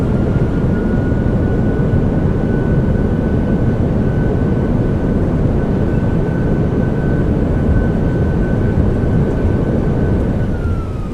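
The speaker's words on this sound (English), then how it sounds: "Nose down gently. Reversers are out. Decelerating." Simulated PMDG Boeing 737-800 in Microsoft Flight Simulator with thrust reversers deployed after landing, a loud continuous engine roar and rumble holding steady, with a faint tone that dips near the end.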